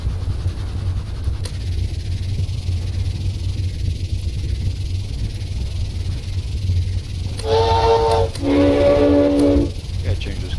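A tugboat steam whistle in the game Stormworks gives two short, loud, tonal blasts near the end, rising over a constant low engine rumble and hiss, with no one talking.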